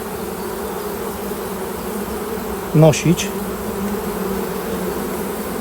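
Continuous buzzing of honeybees around a hive fills the background, with a brief spoken word near the middle.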